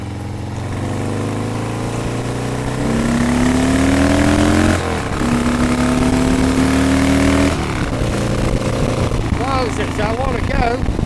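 A 1979 Harley-Davidson Ironhead Sportster motorcycle engine runs steadily while riding, with rising tones as it accelerates through the gears, loud and close with wind noise, and a voice speaks over parts of it.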